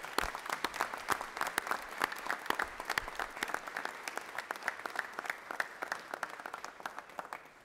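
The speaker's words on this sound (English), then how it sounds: "Please give them a round of applause for their sacrifice and support." A round of applause in the Georgia Senate chamber, many hands clapping steadily and densely for several seconds at moderate distance, fading slightly toward the end.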